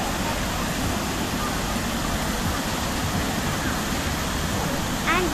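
Vickery Creek Falls at Roswell Mill rushes with a dense, unbroken roar of falling water, loud and close the whole time, with a voice faintly heard under it.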